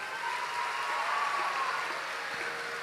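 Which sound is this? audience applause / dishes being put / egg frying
audience applause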